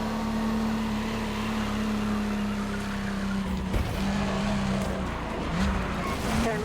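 A racing car in The Crew Motorfest holds a steady high engine drone through a lap, with shifts in pitch and brief tire squeals, loud and close with no pauses.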